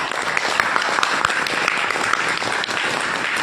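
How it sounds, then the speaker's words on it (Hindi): Dense, continuous applause from a seated audience at a committee meeting gathering, many hands clapping steadily at close range with no break, fairly loud throughout. "अपने लिए एक बार जोरदार ताली"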